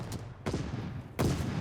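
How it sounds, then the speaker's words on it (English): Bursts of MP40 submachine gun fire in a competitive Call of Duty Vanguard match, two loud sharp volleys rattling out close by, each followed by a decaying tail. "They're just running right into the gunfire of that MP40"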